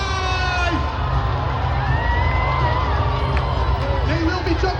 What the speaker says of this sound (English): Give them your louder cheer!